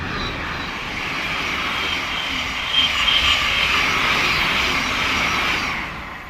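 A Class 700 electric unit passes through New Southgate station on the East Coast Main Line, a steady, fairly close broadband roar that swells through the middle and eases off at the end, with no talking.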